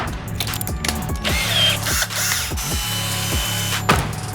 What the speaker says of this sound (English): you're gonna need a power drill and 2 jars